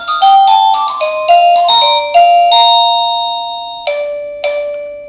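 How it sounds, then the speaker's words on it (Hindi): A loud amiciSmart wireless doorbell confirmation ringtone plays a run of quick bright chime notes, followed by two separate ding tones that ring and fade. "आपको कंफर्मेशन रिंगटोन सुनाई देगी"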